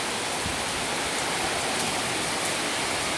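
Torrential rain falling across a flooding street in Puerto Rico makes a constant, loud hiss and roar, even and unbroken throughout, with no one talking.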